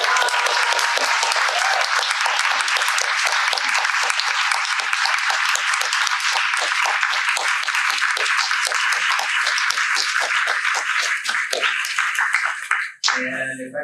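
Audience applause at an art talk in a gallery survey show of women artists: sustained, dense clapping from a seated crowd for over twelve seconds, ending abruptly with a brief clatter.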